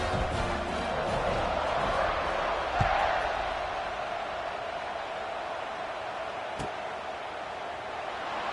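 Football stadium crowd at a Gators vs Tigers game roars steadily through a kickoff, a broad continuous wash of cheering with a brief thump partway through.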